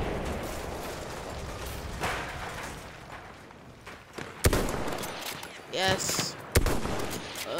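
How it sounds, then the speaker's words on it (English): Gunfire in Battlefield 1, a few sharp loud shots and mechanical weapon clicks cutting through game background noise, spaced irregularly, with a voice briefly speaking. "Let's shoot them up."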